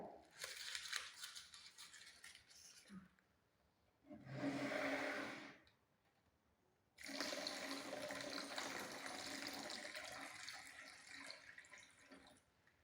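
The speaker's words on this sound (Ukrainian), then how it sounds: "А це в нас л'ється водичка, да?" Water pours and splashes steadily in three bursts separated by short pauses, close and fairly loud, like a tap running into a sink.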